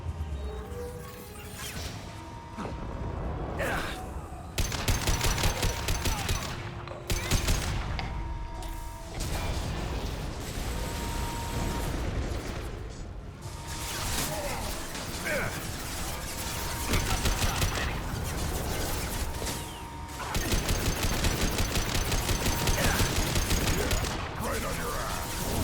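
Gunfire in the game Mass Effect 2, repeated bursts of weapon fire and impact crashes in irregular clusters, with mechanical clanks between volleys and occasional combat voices under the action.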